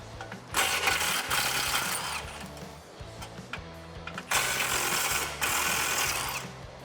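A ratchet wrench with a 13 mm socket and extension works loose the exhaust hangers under a 2015-2020 Mustang EcoBoost, giving rapid, close mechanical clicking in two sustained spells separated by a short pause.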